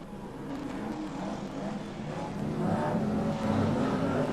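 BriSCA F1 stock cars race down the back straight at Long Eaton, a dense engine roar that swells and grows louder toward the end, heard from trackside at moderate distance.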